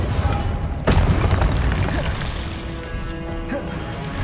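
A Confringo fire-blast spell in the Hogwarts Legacy video game: a sharp booming burst near the start, then a rumbling, crackling tail over continuous game noise and faint tonal music.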